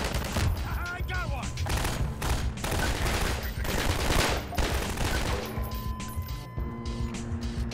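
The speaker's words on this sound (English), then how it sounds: "Who's shooting me?" Rapid gunfire in the video game Half-Life 2 during a Civil Protection fight, dense bursts of automatic shots cracking one after another with some clanking mechanical noises, loud and continuous across the clip.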